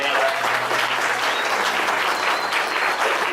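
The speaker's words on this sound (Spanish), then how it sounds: "ella siempre le hace un aplauso fuerte" Church congregation at a Sunday service clapping loudly and warmly for a member, a thick, continuous wash of applause from a large group close by, with a low sustained tone underneath.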